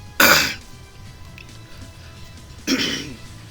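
Two short, harsh coughs a couple of seconds apart, close to the mic, over a low steady background hum.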